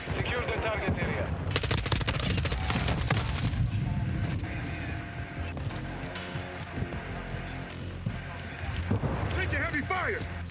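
Heavy gunfire in a video game, dense bursts of rapid shots crackling loudly and continuously under shouted voices, with a sharp intense stretch early on and scattered shots through the rest.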